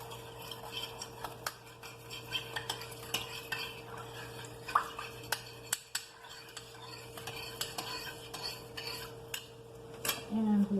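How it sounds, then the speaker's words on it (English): A metal tablespoon scooping and scraping baking soda in a bowl for homemade deodorant, a series of faint clinks and scrapes, each scoop marked by a small tick, over a steady background hum. "So we're going to go ahead and add 3 tablespoons of baking soda and 2 tablespoons of cornstarch."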